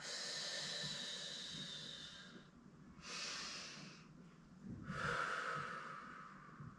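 Slow, deliberate breaths during a Pilates exercise with a small ball: a long airy exhale, then a short inhale and a second exhale, each a soft close hiss heard alone with no talking.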